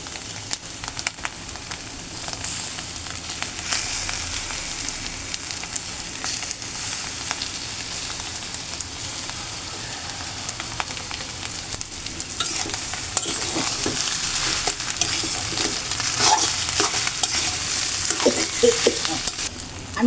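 Katla fish roe frying in a pan, a steady close sizzle and crackle that continues for the whole stretch, with occasional stirring scrapes and a slight build in intensity toward the end.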